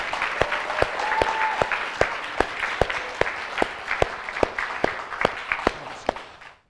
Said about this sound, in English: let's give a round of applause for all of our great student presenters